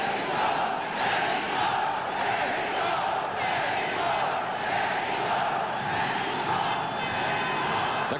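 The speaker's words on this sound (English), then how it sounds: "The crowd chanting Mexico for Jose Napoles" A boxing arena crowd at the Jose Napoles versus Billy Backus fight chants "Mexico" for Napoles, a steady, dense roar of many voices filling the hall without a break.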